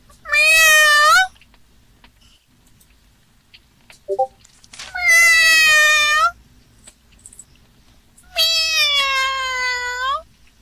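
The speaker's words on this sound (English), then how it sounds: "she went up to the door and started to meow" A cat meows three times, long drawn-out cries separated by quiet pauses, close and fairly loud, with a faint brief sound in between.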